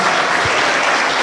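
A church congregation applauds for the youth group, a loud, close, dense wash of clapping that holds steady and evenly through the whole moment without speech.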